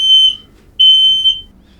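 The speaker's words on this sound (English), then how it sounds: "the literal fire alarm went off" A fire alarm goes off inside an RV motorhome, sounding two loud, piercing shrill beeps close by, each roughly half a second long, with quiet hum between them.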